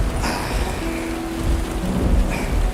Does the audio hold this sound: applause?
no